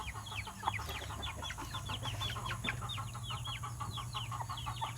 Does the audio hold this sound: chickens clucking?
yes